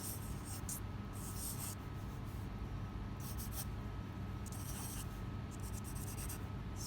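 A pencil drawing a hand on paper, making soft scratchy strokes in short bursts with brief pauses, close and quiet over low background hum.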